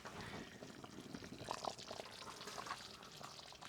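A pot of food simmers on the stove, giving faint, irregular bubbling and small liquid pops at a low, steady level with no voices.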